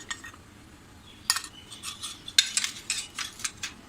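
A spoon stirring rice flour and chili powder batter in a metal bowl, quiet at first, then a burst of rapid clinking and scraping strokes, close and alone.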